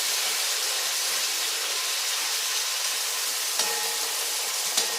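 Meat fries with tomato in a pot, giving a steady loud sizzling hiss up close, with a couple of sharp clicks from stirring near the end and no voices.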